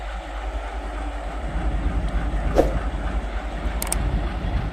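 A train rolls slowly in reverse on newly laid track near Vignwadi railway station, giving a low, steady rumble with faint clatter, moderately distant, and a brief sharper squeal partway through.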